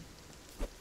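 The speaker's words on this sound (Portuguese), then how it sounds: "Finalmente uma chuva quente." Rain falls steadily in the video game Nocturnal, a soft, even hiss of droplets with one brief, slightly louder splash near the end, with no voices.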